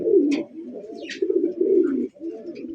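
Big pigeons kept for wholesale sale, including racer birds, coo close by: a low, throaty, rolling coo runs almost continuously, with faint chirps from other birds above it.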